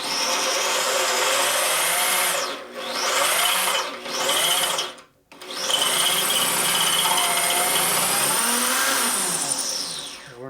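A drill bores straight down into wood in a workshop, a loud continuous whine that dips twice, cuts out briefly and then runs steadily again, with no talking.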